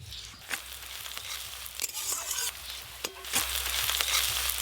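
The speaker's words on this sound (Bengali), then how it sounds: "পেঁয়াজ কুচিগুলো ভালো করে ভাজা ভাজা হয়ে গেছে" Chopped onions fry in oil with a close, steady crackling sizzle, broken by a few sharp scraping stir strokes.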